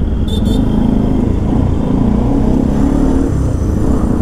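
A 40 PS adventure motorcycle engine runs steadily during a test ride, a loud, continuous close-up drone with no pauses.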